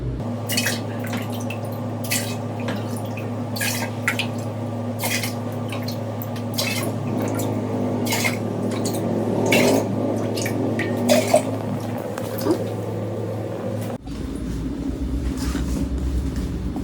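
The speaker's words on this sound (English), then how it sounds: "we need 4 cups of the sweet tea for each gallon of kombucha. So we're going to add 8 of these to each container." Sweet tea poured steadily into kombucha brewing containers, a continuous liquid stream with light clinks of containers over a low hum, with no talking.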